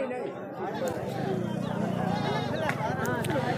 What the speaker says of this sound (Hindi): ये पहाड़ी बकरा है देख ले माशाल्लाह, पहाड़ी बकरा